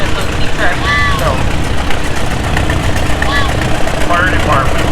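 A 1949 Co-op tractor engine runs at the Western Minnesota Steam Threshers Reunion in Rollag, a loud steady low rumble with outdoor crowd noise and voices talking over it.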